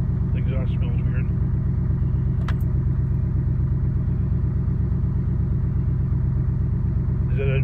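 A car engine idles steadily with its exhaust running, a loud, even low throb that continues throughout, while a few brief faint noises sit above it.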